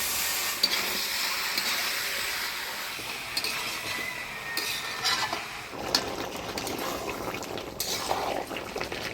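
Chicken pieces being stirred with spices in a pan for a chicken curry, giving a continuous scraping, sizzling rustle that shifts in texture midway, close and fairly loud with no voices.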